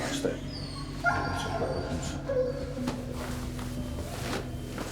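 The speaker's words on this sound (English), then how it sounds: "The dogs are in as well" Prison search dogs bark, yip and whimper inside a young offenders' institution, short excited calls scattered under ongoing talk and room noise.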